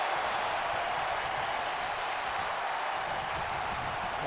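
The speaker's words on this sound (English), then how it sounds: "Crowd getting lit." A wrestling video game crowd from an ECW match sends up a steady, dense roar of cheering and applause, a continuous wash of noise at even volume with no individual voices standing out.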